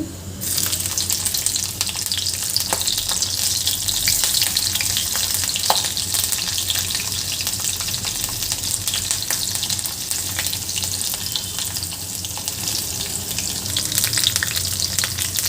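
Green chillies and urad dal sizzle in hot oil in a pan. The frying is a steady, bright crackle that runs without pause for the whole stretch, with faint stirring and no voices.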